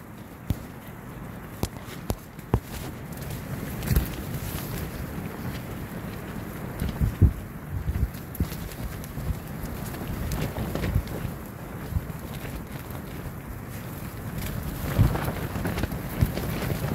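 Steady low rumbling wind with gusts swelling and fading, scattered knocks and rattles underneath, no voices.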